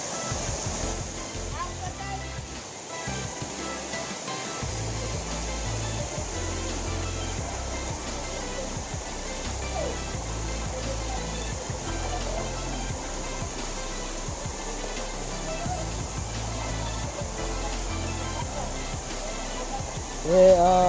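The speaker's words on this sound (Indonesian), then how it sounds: "udah sampai di air terjun" The waterfall at Ambang village gives a steady, unbroken rush of falling water at moderate level throughout, with faint voices in the background.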